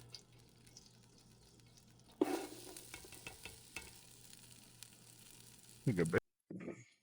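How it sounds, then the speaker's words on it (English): Diced onions sizzling in butter in a pan on a camping trip, a faint steady hiss with occasional scraping stirs, a voice speaking over it near the end. "We've had our onions sweating down for about 10 minutes"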